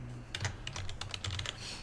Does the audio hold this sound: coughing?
no